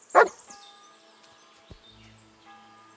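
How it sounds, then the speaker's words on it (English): A dog barks once, a single sharp close bark at the start in the video game Kingdom Come Deliverance 2, followed by quiet ambient tones and a faint thud. "Sit and bark."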